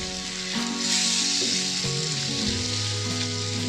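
Egg and onion masala sizzling and frying in a pan while being stirred, a steady hiss up close with intermittent scraping and clinking of the utensil against the pan, no talking.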